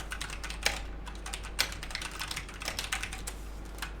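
Typing on an Ajazz K870T 87-key mechanical keyboard with brown switches: close, quick irregular clacks in bursts, moderately loud, with no speech.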